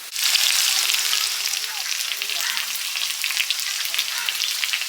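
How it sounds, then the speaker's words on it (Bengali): Potato pieces fry in hot oil left over from frying eggplant, giving a loud, steady sizzle. It bursts up as the potatoes go in, then settles into continuous crackling with no talking. "বেগুন ভাজার তেলে আলুটা দিয়ে দিচ্ছি"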